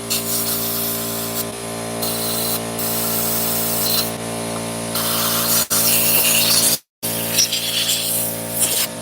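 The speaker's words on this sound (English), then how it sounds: "I may take compressed air a minute and make it a little noisy in here" Compressed air blasts steadily to blow sand out of a Traxxas drag Slash RC car. The loud, continuous hiss runs almost unbroken, with one brief gap, over a low electrical hum.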